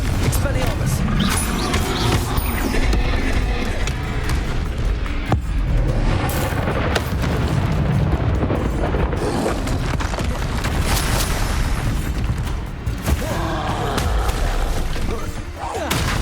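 Confringo explosive spells from Hogwarts Legacy burst in loud, booming blasts one after another, thick with rumble and crackle.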